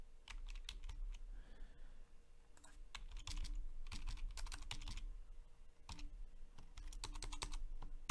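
Keys on a computer keyboard are typed in quick, uneven bursts, with clicks clustered close to the microphone over a steady low background hum while code notes are entered for a switch-and-LED circuit project.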